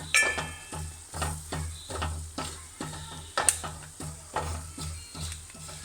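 Spices with turmeric powder are stirred and fried in a pan, with a rhythmic series of scraping strokes and clinks over a soft steady sizzle, close and alone.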